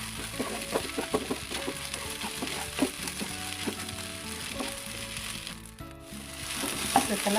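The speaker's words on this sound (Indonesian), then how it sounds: "Kemudian akan saya aduk rata." Fried rice seasoned with mushroom broth for green chili nasi goreng is stirred in a hot pan, a moderate sizzle punctuated by frequent scraping and tapping of the utensil, with a low hum in the background.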